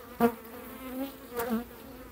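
Honeybees from a small colony of an opened hive just out of winter, with its brood frames exposed, make a faint, steady buzz. Two brief louder swells rise over the hum.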